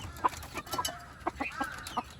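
Backyard desi hens clucking close by in a series of short, bright clucks spread unevenly across a couple of seconds, with some low farmyard rustle beneath and no talking.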